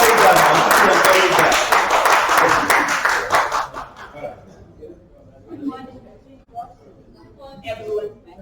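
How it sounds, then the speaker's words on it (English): An audience at a research methodology session gives a loud round of applause that fades after a few seconds, followed by scattered voices and murmuring. "Please give a round of applause."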